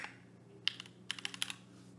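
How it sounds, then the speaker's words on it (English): A name is typed on a computer keyboard in a quick burst of soft, close keystrokes, a handful of clicks over about two seconds, with no talking. "And we type in our name."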